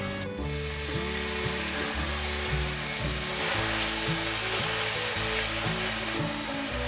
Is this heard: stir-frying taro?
yes